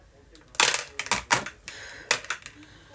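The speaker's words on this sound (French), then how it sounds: "On va venir donner un coup de ciseau pour que ça tombe." Scissors snipping beads loose from a strand, several sharp, close metallic clicks and snaps in quick succession with short pauses between them.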